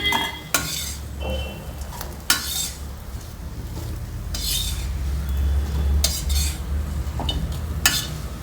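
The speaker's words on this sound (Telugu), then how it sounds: "బౌల్లోకి తీస్తున్నాను." A spoon scrapes and clinks against metal as a cooked potato curry is spooned from the pan into a bowl, with a few sharp, separate knocks spaced over a low background hum.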